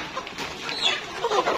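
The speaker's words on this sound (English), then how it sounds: "These are called rainbow rooster chicken." Three-month-old rainbow rooster chickens cluck softly and intermittently in a farm pen, with a low, busy background and short bursts of clucking toward the end, no talk.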